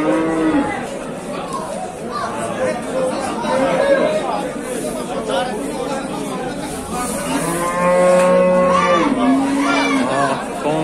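Cattle and calves at a busy livestock market in Dushanbe, with repeated loud, drawn-out moos close by over a constant murmur of crowd chatter and talk.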